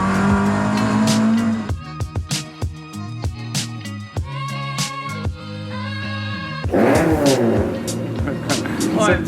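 A Mk1 Ford Escort driving hard, its engine revving and climbing through gears with rising and falling pitch, close and loud, with tyre noise and a voice speaking briefly.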